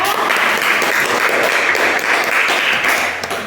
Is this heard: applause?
yes